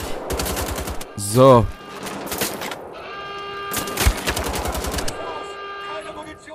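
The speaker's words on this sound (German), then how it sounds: "ich habe so eine komische Pistole, die euch alle wegschnetzelt" Bursts of gunfire from an odd pistol in the shooter game Wolfenstein: The Old Blood, rapid repeated shots loud and close, with a short spoken word and other game sounds mixed in.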